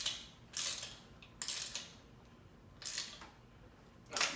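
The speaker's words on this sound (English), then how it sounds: "then I finish it off with the ratchet" Ratchet working on engine studs of a Honda CRX, four separate bursts of quick clicking strokes spaced by short pauses, fairly close and moderately loud with nothing else over them.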